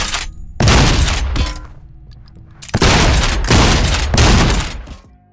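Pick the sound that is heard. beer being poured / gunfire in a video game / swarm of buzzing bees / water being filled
gunfire in a video game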